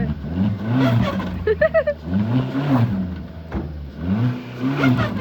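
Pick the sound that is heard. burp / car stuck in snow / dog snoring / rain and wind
car stuck in snow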